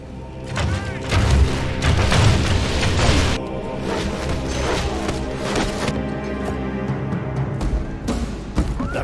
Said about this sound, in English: His archers raise their bows and fire into the shield wall.